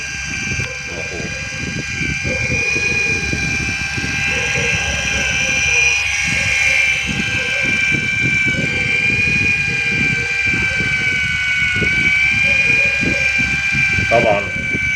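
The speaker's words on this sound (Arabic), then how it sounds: "اسمع يا باشا صوت" A car's HH1.2 engine idles steadily with a dense mechanical drone and rapid ticking pulses, loud and close, while someone talks over it throughout.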